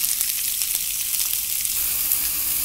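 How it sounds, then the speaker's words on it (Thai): Pork meatballs frying in chili curry paste in a hot pan, a loud steady sizzle and crackle close up, with faint stirring scrapes. "พอน้ำพริกหอมนะคะเราก็ใส่ลูกชิ้นลงไปเลยค่ะ"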